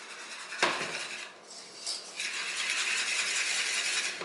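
A spoon scrapes and clanks against a pot while cornmeal grits are stirred, with a sharp metallic knock near the start followed by continuous rattling and scraping, close and fairly loud, with no talking.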